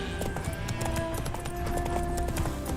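Roach the horse's hooves clip-clop steadily in The Witcher 3, a brisk, even rhythm of hoofbeats close by over a layer of game music and ambience.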